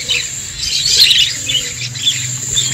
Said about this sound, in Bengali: ভালো কোয়ালিটির বদ্রি পাখি